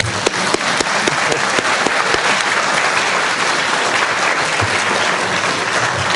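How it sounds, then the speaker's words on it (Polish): An audience at a lecture marking the 80th anniversary of Bronisław Geremek's birth gives a professor steady, dense, sustained applause, loud and even throughout with no talking. "Ja proponuję spontaniczne i niezaplanowane oklaski dla pana profesora"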